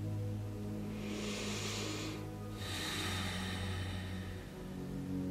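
Slow, deep belly breathing during a guided relaxation: two long, soft airy breaths, each swelling and fading over a couple of seconds, close and steady over a low constant hum, with no talking.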